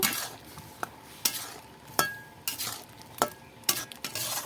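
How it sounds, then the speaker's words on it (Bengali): Cut eggplant stirred in a frying pan with bitter gourd, giving sharp scraping knocks of the spoon about seven times in an uneven rhythm over a faint background sizzle, close and alone. "বেগুনটা দিয়ে এবার একটু নাড়িয়ে নেব"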